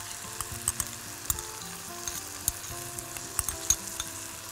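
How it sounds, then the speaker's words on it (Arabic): Tomato paste and grated tomato hitting browned meat in a hot pan, a loud steady sizzle close by with scattered sharp pops and spoon scrapes throughout, no voices. "فهنحط بقى دلوقتي الصوص اللي عندنا اللي هي صلصة الطماطم والطماطم المبشورة"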